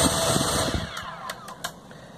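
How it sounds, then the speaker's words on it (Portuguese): A small drone's electric motor whines at a high pitch and then winds down to a stop. Faint clicks and taps follow, with no voices. "O primeiro motor para rapidinho."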